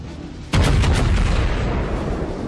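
Battleship main guns fire at a cruiser in the World of Warships game: a sudden loud salvo of heavy booms in quick succession, followed by a long rumbling roar that slowly fades, with no voices.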